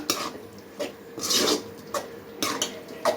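A spatula scraping and rasping across a pan as egg and goat blood fry, several short, close scrapes in an uneven rhythm with a longer stroke in the middle.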